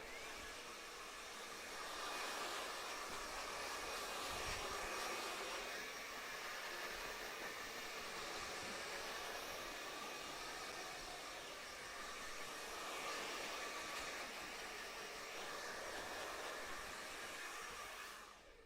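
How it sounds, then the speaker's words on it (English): A hair dryer blows a steady, loud broadband rush while styling a short shag haircut, running continuously with slight swells in intensity and no talk. "I'm gonna hit it with the dryer."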